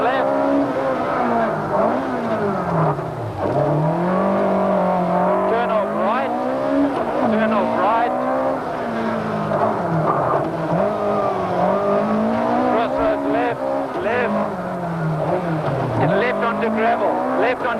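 A 1991 Toyota rally car driving through hairpin turns, its engine revving up and down continuously as it brakes and accelerates through the bends, loud and close throughout, with an onboard voice talking over it.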